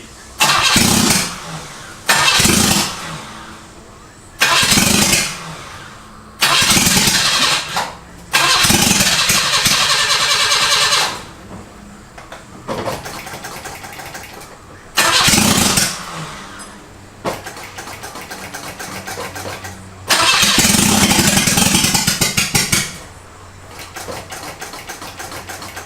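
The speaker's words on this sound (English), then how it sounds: "I'm just hoping it turns over still." A Toyota KE70 Corolla engine cranks over in repeated loud bursts, catching briefly several times before finally firing up and running roughly at idle for a sustained stretch, heard up close with no talking.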